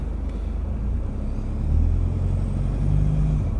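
A four-wheel drive vehicle tries to climb a hill with its left front wheel spinning, a close low engine rumble that swells partway through, with no talking.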